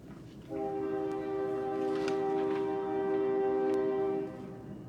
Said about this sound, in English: that's a new train coming the other way now